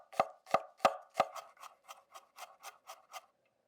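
A knife minces garlic on a cutting board: about a dozen crisp, evenly spaced chops, the first few hard and loud, then lighter taps fading out.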